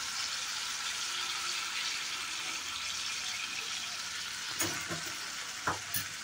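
Mustard paste sizzles in a pan with softened tomatoes for an egg curry, with a steady, close frying hiss and a few sharp clinks of a utensil against the pan near the end.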